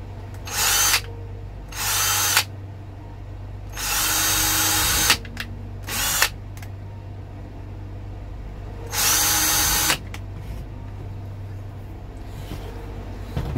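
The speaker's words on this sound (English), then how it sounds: "And I'm just going to drill two holes." A power drill bores two holes for Halloween light decor, running in several loud whirring bursts of one to two seconds with brief pauses and short trigger blips between them, over a steady low hum.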